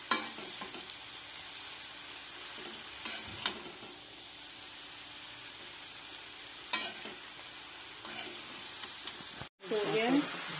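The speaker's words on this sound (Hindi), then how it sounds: "बारीक कटी हुई पालक इसमें डालेंगे। और इसको अच्छी तरीके से मिक्स कर देंगे।" Finely chopped spinach is stirred into potatoes frying in a pan, with a steady sizzling hiss and occasional scraping strokes, a brief pause near the end, then louder clattering.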